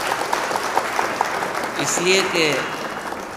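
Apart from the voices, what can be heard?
audience applause at a mushaira poetry gathering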